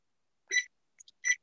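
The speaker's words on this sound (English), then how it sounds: "set the timer for 18 minutes if it's preheated." A kitchen timer for baking cupcakes gives two short electronic beeps a little under a second apart, with a couple of faint button blips between them, in otherwise near silence.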